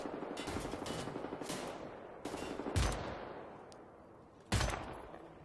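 Sniper rifle fire in the shooter game Wolfenstein The New Order: several sharp, loud single shots spaced a second or two apart, each with a booming low end and a decaying echo tail over a steady background rumble.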